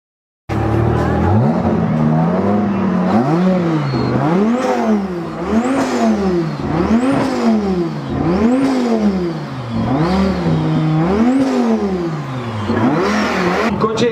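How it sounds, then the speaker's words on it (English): A Ford Mondeo engine revving repeatedly in a steady rising-and-falling rhythm, loud and close, each rev climbing then dropping in a long series of cycles. "And when your Mondeo engines sound like this..."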